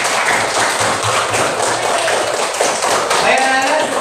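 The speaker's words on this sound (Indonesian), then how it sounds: "Oke, tepuk tangan dulu" A classroom of schoolchildren clapping their hands together, a dense patter of many claps running steadily throughout, fairly close.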